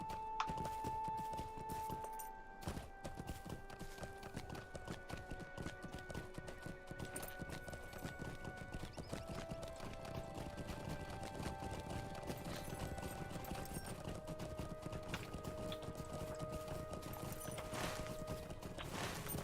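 A horse ridden in Lord of the Rings Online keeps up a steady, rapid clip-clop of hooves, close and continuous, over soft background game music.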